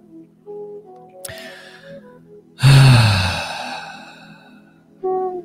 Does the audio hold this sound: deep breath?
yes